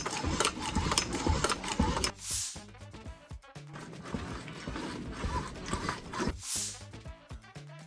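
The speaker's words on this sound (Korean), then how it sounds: "로봇이 이제 구동될 때 나는 소리도 한 10dB 정도 줄였다고 해요" A wearable hiking robot's motors whir and buzz in mechanical bursts, with rhythmic gear-like ticking and two brief hissing swells, fairly quiet and close with no voices.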